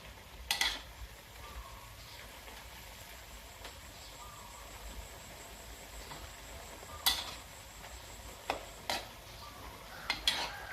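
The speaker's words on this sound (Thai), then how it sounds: "ต้องผัดให้สุกหน่อยนะคะ" Homegrown mustard greens with tough, chewy stems are stir-fried with pork in a pan, heard as a faint background sizzle broken by occasional sharp clanks of a spatula against the pan, with no voices.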